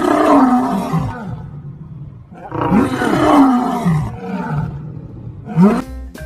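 In an animal-cleaning video game, a lion lets out loud, deep roars in two long, groaning calls, then a shorter growl near the end, with no voices over it.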